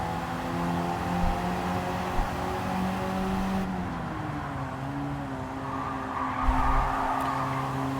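Car sliding through a late corner in Gran Turismo 7 during a Nurburgring time trial, with continuous engine drone and tire skid that shifts in pitch as the slide develops, heard alone without talk.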